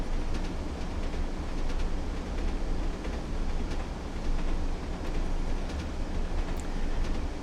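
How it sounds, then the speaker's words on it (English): A historic British train rumbles steadily along the Manchester to Leeds route in a train simulator game, a continuous loud rolling drone with faint rhythmic clicks of wheels over rail joints. "the sounds of the engine are very satisfying."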